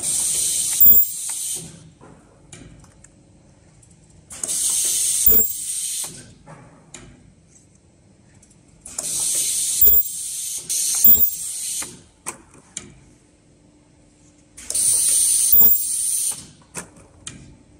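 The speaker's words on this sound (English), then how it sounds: "Automatic rotary ultrasonic welding machine 开始。 Welding two pieces at the same time." An automatic rotary ultrasonic welding machine with two cavities seals plastic clamshells in repeating cycles: four bursts of high hissing weld noise, each a second or so long, separated by mechanical clicks, clunks and ratcheting indexing sounds, close and without talk.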